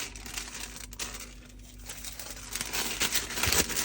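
Sheets of 45 GSM kraft wrapping paper crinkle and rustle as they are handled close up, producing continuous papery crackling that grows louder and busier toward the end, with no talking.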